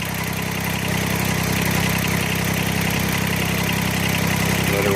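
A Kubota BX25D compact tractor engine idles steadily and loudly up close, a constant low diesel hum with a faint rhythmic vibration and no other sounds.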